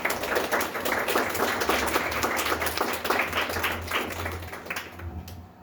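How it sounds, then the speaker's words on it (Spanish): A church congregation claps together in dense, steady applause that holds for several seconds before thinning out at the end, with a low hum running underneath. "Un aplauso a Cristo."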